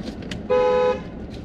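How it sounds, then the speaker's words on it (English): A car horn sounds once in a single steady honk of about half a second, loud and close over faint outdoor background noise on a rail trail near Stanstead and Magog, Quebec. "Sound horn."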